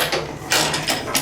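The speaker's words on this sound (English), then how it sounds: "You're going to need a 32 millimeter socket and 2 12 millimeter open end wrenches to get this off." Ratchet clicks in quick rapid bursts as a 32 mm socket turns on the swingarm of a Kawasaki Z H2 supercharged streetfighter, close and clear with no talking.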